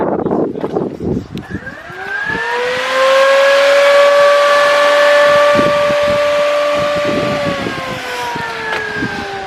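An electric transmission cooler fan on a Chevrolet Silverado spins up into a loud, steady whine with a humming tone, then starts to wind down near the end.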